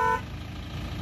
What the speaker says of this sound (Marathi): ट्रॅफिक जाम झाले आता रस्ता भेटते का नाही काय माहिती.